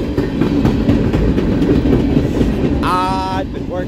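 A BNSF coal freight train rolls past in Battle Creek, Michigan, with a loud, steady rumble and clatter of wagons throughout, and a brief horn-like tonal blast near the end.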